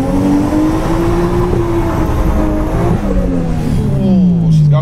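A Toyota 1JZ engine in a drift truck revs up and holds a rising, throaty drone, pitch sliding up and down, loud and close.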